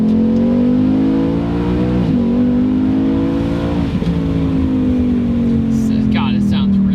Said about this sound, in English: the Mach 1 might have the best Mustang factory exhaust I've ever heard.